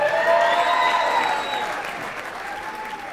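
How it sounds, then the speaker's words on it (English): Guests at a wedding reception in Sydney break into loud applause with a crowd murmur and a few whistles, starting strong and gradually easing off over a few seconds. "How about a nice round of applause for Johnny's older brother"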